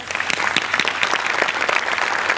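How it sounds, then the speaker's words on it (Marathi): Loud, dense applause from a comedy-show studio audience for a performer, steady clapping that fills the whole stretch without pause. "तिच्यासाठी एकदा जोरदार टाळ्या"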